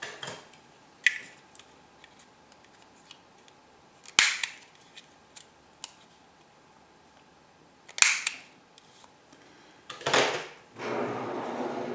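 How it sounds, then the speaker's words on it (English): A hand corner rounder punch clips the ends of a paper tab, making three sharp, close snaps spread across a quiet stretch of light paper handling and small taps. "And then with the corner rounder, just round the ends."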